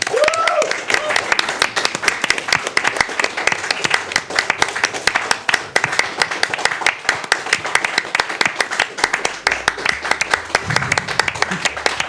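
Audience applause at a live gaming event marking the end of a SpongeBob SquarePants: Battle for Bikini Bottom any% speedrun, dense and steady clapping for about twelve seconds with voices talking over it.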